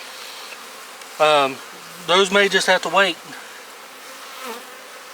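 Honeybees drone steadily around an open hive in a beekeeping yard, a soft continuous buzz running beneath a man's nearby speech.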